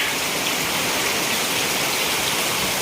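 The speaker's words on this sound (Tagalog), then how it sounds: "bumabaha na po kasi umapaw na po yung ilog" Dense, steady rush of floodwater, a continuous broadband roar from an overflowing river during a typhoon, with no talking.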